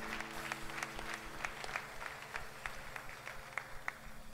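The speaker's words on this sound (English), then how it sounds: "Clap for this young lady as she comes." Church congregation clapping as a young lady comes forward: rhythmic, fairly steady claps from many hands, heard at a moderate distance with a low hum from the room beneath.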